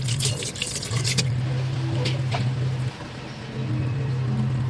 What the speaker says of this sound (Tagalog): Katapos ay nilagyan ko na nga lang din ng tubig.